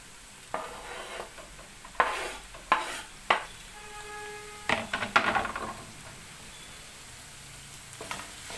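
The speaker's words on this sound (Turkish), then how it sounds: "Biberlerini de koydum. Bunlar da güzelce bir kavrulsun." Peppers sautéing in a pan, a soft sizzle punctuated by several close clatters and scrapes of a utensil stirring, with quiet gaps between and no talking.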